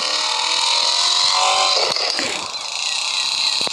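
BMW car pushing up a mountain, a high, strained engine whine with harsh wind and gravel roar, close and loud, with a few sharp bumps and knocks.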